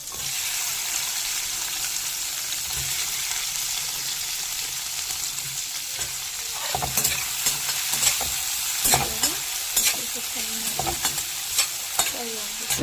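Ginger, garlic and onion frying in a pan for a mixed vegetable palya, a steady close sizzle that grows busier midway with spatula scrapes and stirring knocks layered over the hiss.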